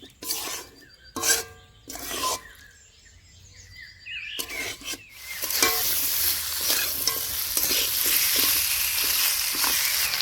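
Katla fish head stirred and frying in a pan with oil, a few sharp scraping stirs at first, then a loud, steady sizzle filling the rest.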